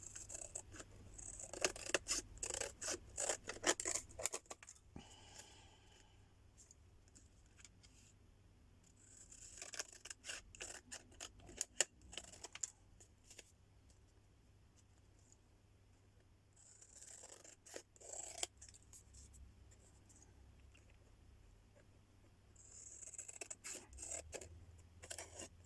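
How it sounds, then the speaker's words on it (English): Scissors snip around a scrap of antique paper ephemera in bursts of close, crisp cutting strokes, separated by quieter pauses of handling and rustling. "And let's cut around it."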